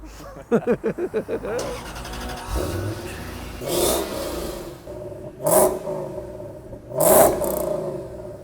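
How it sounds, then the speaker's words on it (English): A pickup truck (bakkie) on a test drive: an engine cranks and starts with rapid pulses, then idles and revs in several swells, with voices speaking in between. "first time driving the Bakkie now"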